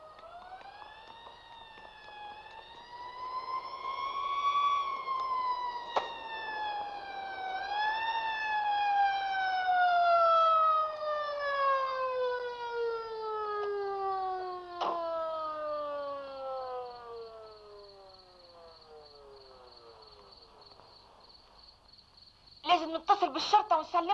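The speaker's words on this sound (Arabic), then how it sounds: "ساعتها سمعنا صفارات الشرطة." Police sirens wail on a cold night in a residential street, several rising and falling tones overlapping and sweeping down, fairly close and steady, with a brief burst of clatter at the end.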